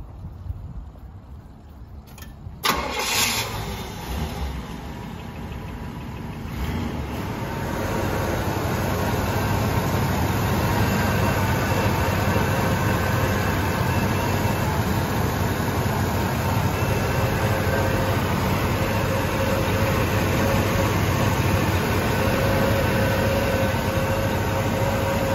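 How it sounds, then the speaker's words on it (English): A 1977 Pontiac Grand Prix engine cranks with a short starter burst, catches and settles into a steady, rumbling idle that holds loud and even for the rest of the clip. "let's go ahead and put the key in her, start her up, and take her for a spin"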